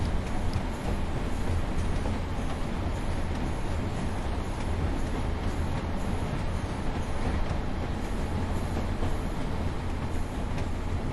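Class 142 Pacer diesel unit rolling between Ormskirk and Preston with the throttle off, a steady rumbling drone of wheels and engine heard from the cab with no break or change for the whole stretch.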